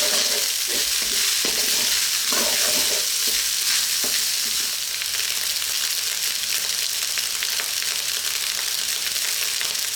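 Pork fried rice with corn fries in a pan, a steady loud sizzle with intermittent scraping and stirring clatter throughout, no voices.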